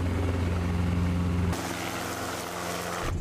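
Helicopter heading into the remote Lost City near Cape Crawford in isolated outback cattle country, a steady low rotor and engine drone that holds loud and even, then shifts to a thinner cabin hum partway through with no talk.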